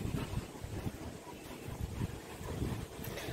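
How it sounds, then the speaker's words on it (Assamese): Strong outdoor wind under a dark, rain-threatening sky, a continuous low buffeting rush with gusty surges and microphone rumble, steady throughout. "ইফালে ইমান বতাহ দি আছে"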